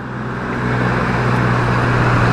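A truck rumbles past on the road while a Honda PCX scooter with an overbored engine rides alongside, a loud steady roar of engine and road noise swelling slightly as it nears.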